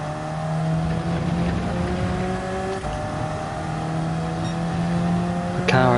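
A race car engine in the Gran Turismo 7 racing game drones at high revs with steady whining tones and one brief gear change, loud and continuous through the short stretch.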